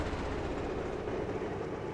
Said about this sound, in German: Machen wir kurz den Motor aus, der ist mir sonst einfach zu laut.